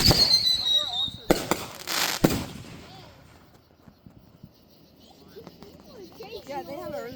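Fireworks burst outdoors in a family display, with sharp loud explosive cracks and a rising whistle near the start, then crackling and distant pops fading out while people talk and shout nearby.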